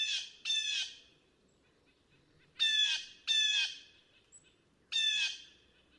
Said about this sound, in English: that is another just absolutely wonderful bird called the blue jay